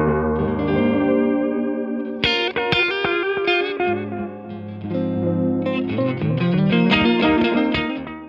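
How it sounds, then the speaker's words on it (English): An electric guitar runs through a boutique PT2399 lo-fi tape delay pedal, its warm, dirty repeats trailing each chord and note in a steady, loud passage with a wobbly, mechanical edge. "The goal is to provide low fidelity, warm and dirty delay sounds, while conveying a mechanical feel to the delayed signal."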